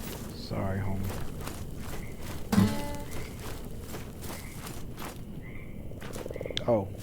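Frog croaks in the video game Mortal Shell, short repeated calls against a busy ambient backdrop with footsteps and scattered game sounds.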